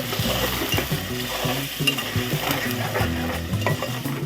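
Onion and green chili paste frying and being stirred in hot oil in a pan for bagara rice with chicken curry, a steady close sizzle with repeated scraping stir strokes throughout, no talk.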